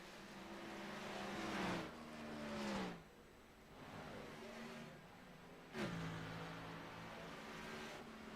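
Race cars in an Xfinity Series event at Dover roar past one after another, engine pitch sliding down as each passes, loud and sustained with constant track noise between.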